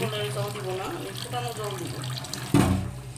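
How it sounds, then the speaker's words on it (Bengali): Masoor lentils being rinsed in water at a kitchen sink, with running water from a tap splashing and gushing steadily, getting louder near the end, under a person talking. "এখানে দেখছেন আমি ধুয়ে নিচ্ছি"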